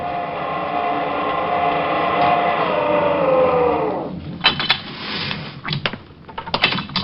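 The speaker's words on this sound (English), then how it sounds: "took the elevator up to my floor" Elevator ride in a detective audio drama: a smooth, steady motor hum glides downward for about four seconds, then gives way to a scatter of sharp mechanical clicks and clunks as the car settles, with no voices.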